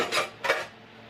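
A small whisk stirs inside a bowl while making the blueberry part of a Fourth of July dish, giving two quick scraping, clinking bursts close by before going quiet.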